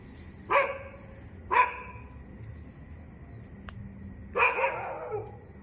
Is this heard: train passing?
no